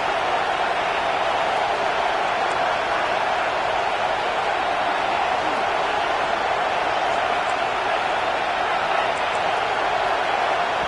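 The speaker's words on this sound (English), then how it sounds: "The noise reverberating off the checkerboards in Neyland on 3rd down." Steady roaring stadium crowd noise echoing around Neyland on a third down, a dense continuous wall of fans yelling with no distinct breaks, loud and enveloping throughout.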